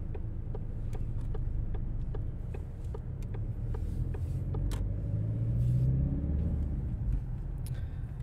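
A cold car's engine rumbles steadily while driving at dawn, with a low, even drone and a regular light ticking over it, and no voices.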